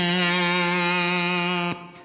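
A single sustained guitar note or chord played through a KingTone MiniFUZZ Si pedal with the fuzz turned up, thick and saturated with dense buzzing overtones, ringing steadily for about a second and a half before being cut off.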